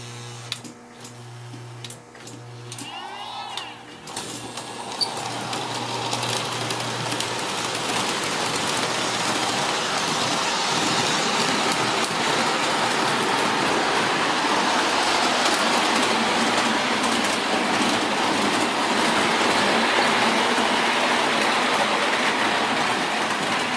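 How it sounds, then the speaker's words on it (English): A Williams brass scale Hudson model train runs around its track, starting with faint clicks and hum, then building after a few seconds into a loud, steady whirring rumble of wheels on rail that continues without pause. "I'm going to send this train around the track,"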